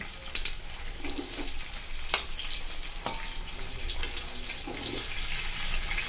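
Sliced onions frying in hot oil with whole spices for a home-style basmati chicken dum biryani, a steady soft sizzle with occasional stirring clinks and scrapes, close by and without talking.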